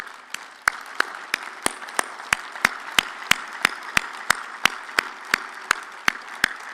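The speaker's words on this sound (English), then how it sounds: "express your support for the Fortaleza Declaration, possibly by giving a warm round of applause." Steady, evenly spaced claps ring out at a brisk rhythm, sounding like a small group applauding in a quiet room at an international education meeting.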